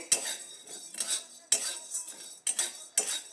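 Dry sago pearls being dry-roasted in a pan, stirred with a metal spoon: repeated scraping and clinking strokes in bursts, close and moderately loud, with no talking.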